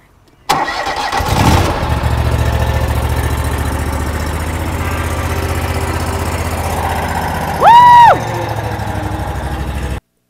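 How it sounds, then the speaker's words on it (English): A ride-on lawn mower engine cranks with a brief starter whir, catches and settles into a loud, steady idle, with a short high tonal whine rising and falling partway through. "Just don't tear the mower up."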